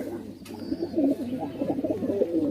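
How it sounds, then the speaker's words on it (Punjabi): Soft, rolling coos of a white-eyed pigeon repeat in a wavering, throaty rhythm, fairly close, with faint background noise. "ਇੱਕ ਬਾਈ ਜੀ ਚਿੱਟੀਆਂ ਅੱਖਾਂ ਦਾ ਕਬੂਤਰ"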